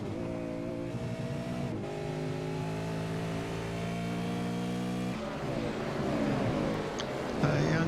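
V8 race cars accelerating at Silverstone GP, a continuous loud multi-engine roar with layered tones, rising and shifting as the cars pass through gears, steady throughout.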